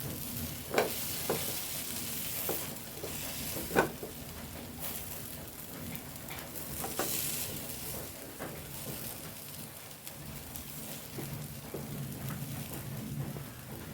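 Masala sizzling in a pan while some is scooped out, a soft steady fry crackle with a few scraping spoon clicks, quiet and close, no talking.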